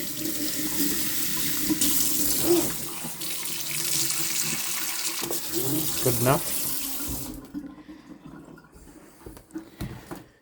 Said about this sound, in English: I'm going to throw a little water in here. Rinse my hands.